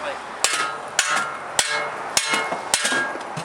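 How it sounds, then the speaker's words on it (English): A hammer bangs on a snowmobile engine part in six sharp metallic strikes at a steady rhythm, close and loud, each blow ringing briefly. "Just open her up, get a tool like a hammer."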